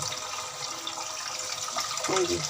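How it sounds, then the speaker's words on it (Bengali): Kalai greens are washed under a running tap, a soft, steady splashing of water with a brief brighter gurgle near the end, faint and close. "তো আমি কলই শাকটা ধুয়ে নিচ্ছি"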